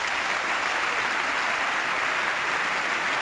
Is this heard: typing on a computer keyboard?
no